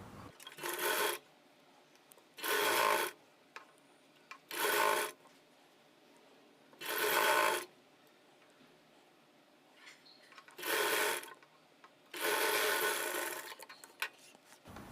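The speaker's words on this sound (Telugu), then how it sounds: "ఇప్పుడు ఇక్కడ నుంచి ఇది లైనింగ్ అంచు ఒరిజినల్ పీస్ని ఇలా జాయింట్ చేసేయండి" A sewing machine stitches a lining edge onto an original fabric piece in six separate bursts of steady whirring, each one to two seconds long, with quiet pauses between them.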